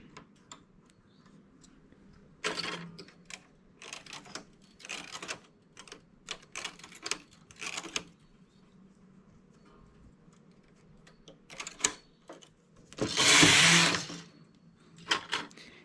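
A knitting machine carriage sweeps across the needle bed knitting a baby cardigan at tension setting 4 on 76 stitches, giving a series of close rattling, clacking passes with a long loud run near the end, no talking.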